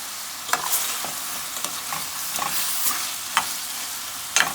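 Potatoes frying in a pan for vegetable biryani, made with potatoes in place of meat: a steady sizzle broken by sharp scrapes and clacks as a spoon stirs them now and then, with nobody talking.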